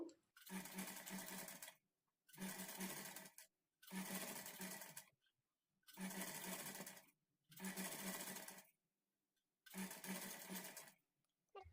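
A sewing machine stitches thread piping onto cloth in six even, whirring bursts of about a second and a half each, separated by short pauses, close and clear with no talk.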